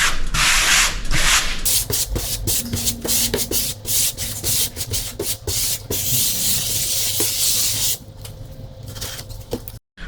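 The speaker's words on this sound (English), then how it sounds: "you would emulsify the grout to clean some of the excess off the top after squeegeeing" Microfiber finishing sponge rubbing across freshly squeegeed urethane grout to emulsify it, a steady close scrubbing swish with repeated strokes and brief pauses, with no voices.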